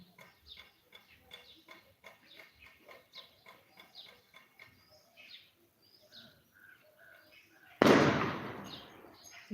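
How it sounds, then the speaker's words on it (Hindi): A single loud firecracker bang bursts out near the end, echoing for a moment, after a stretch of chirping birds and faint fowl calls at a Diwali celebration. "देखिए बहुत सारा पटाखा लग रहा है दीपावली के अवसर पर।"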